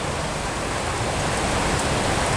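Steady, dense heavy rain in Bangkok hisses continuously, a broad even wash of sound with no pauses or voices.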